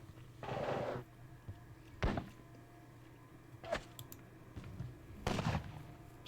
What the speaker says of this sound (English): the Portuguese under Rezenda will shoot them